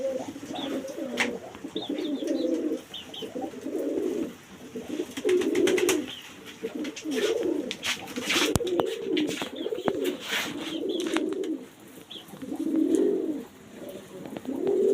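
Native pigeons cooing in a cage, repeated low throaty coos in soft rhythmic phrases from several birds close by, with occasional clicks and rustles in between and no talking.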